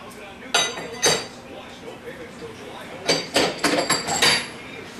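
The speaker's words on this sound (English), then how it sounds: "now we can go ahead and put our rear carrier on" Metal parts clink and knock as the rear carrier of a TH400 automatic transmission is set into place during a rebuild. A few loud, close clanks are followed by a denser run of ringing taps.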